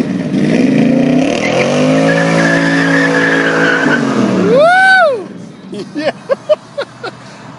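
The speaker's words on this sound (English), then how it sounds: "And he's going to do a burnout for you." A 1967 Eleanor Mustang GT500 with 800 horsepower does a burnout, its engine roaring steadily with squealing tires before a rising rev and a string of sharp exhaust pops, with someone talking.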